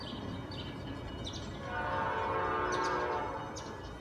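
A Norfolk Southern freight train passes through Cornelia, Georgia with a steady, loud rumble of rolling cars that swells midway. Faint high tones may be its horn or birds, but no clear horn blast stands out.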